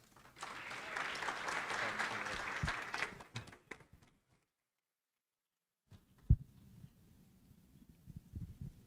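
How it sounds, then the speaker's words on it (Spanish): A lecture audience applauds to welcome a speaker, sustained clapping for about three seconds that tapers off into silence, followed by faint rustling and a sharp knock. "Recibamos con un fuerte aplauso al maestro David Salinas Rodríguez."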